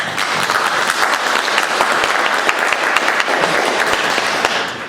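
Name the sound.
applause for volunteers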